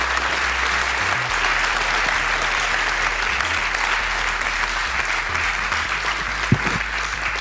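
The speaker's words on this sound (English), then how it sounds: "I think the applause speaks for itself" An audience claps after an inspirational presentation about Equity Bank's journey, sustained loud applause from a large crowd, steady throughout, with a faint low rumble beneath.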